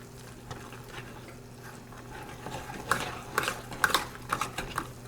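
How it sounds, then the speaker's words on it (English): Potato masher working through warmed mashed potatoes with milk and Parmesan in a pot for cottage pie topping, giving soft rhythmic squishing and clacking strokes that build louder and more frequent toward the end, with no talking. "potato masher, kind of remash the potatoes, get them warmed up"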